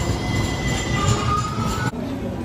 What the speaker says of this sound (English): So right now we're at the tram.